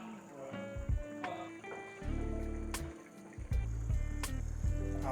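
Water runs and gurgles steadily into a Supertramp camper's fresh water tank, with sloshing and a few knocks. The flow grows louder and fuller partway through.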